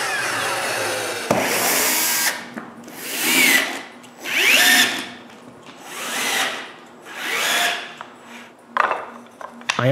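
Power drill boring into a plywood jig in a woodworking shop, heard as four or five loud whining bursts of a few seconds each, separated by short pauses, with scraping and handling noises between them.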